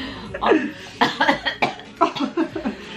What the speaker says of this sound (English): I've got a smoker's cough, but I don't even smoke